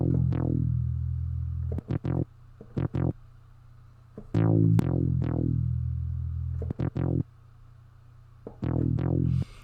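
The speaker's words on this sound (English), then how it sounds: "Okay, so I got the bass." A synth bass from the All Boy Bass VST plays a West Coast beat: deep, round notes in a bouncing, syncopated pattern, some sliding in pitch and some sharply plucked. It is loud and close, with no voices.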